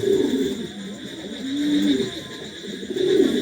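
King pigeons coo in low, rolling bursts, a few soft repeated calls close by over a steady background hum, with no one talking.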